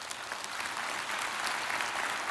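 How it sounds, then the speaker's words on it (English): Church congregation applauding in a large hall, a steady, fairly distant wash of clapping from many hands with no talk. "I've been hoping you'd applause all along here, so I'm glad that you did."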